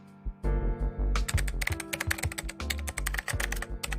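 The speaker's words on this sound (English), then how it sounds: "I listened to the sound of his nimble fingers tap the keys" Rapid, irregular tapping of nimble fingers on a computer keyboard in a visual novel scene, a close, dry clatter of keystrokes in quick bursts with brief pauses, no voices.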